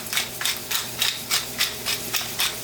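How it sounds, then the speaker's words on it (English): Fresh black pepper being ground in a mill: a rhythmic series of about eight crunchy rasping twists, evenly spaced and close, alone without talk. "Fresh ground black pepper."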